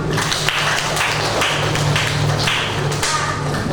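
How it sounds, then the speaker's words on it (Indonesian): A class of ninth-grade students in an electrical circuits lesson claps hands together, a loud, dense run of clapping lasting a few seconds close by. "Oke, tepuk tangan buat kalian semua"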